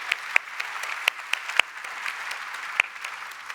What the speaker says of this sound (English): A big round of applause for our volunteers.